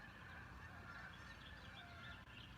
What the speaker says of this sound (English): can you hear the geese?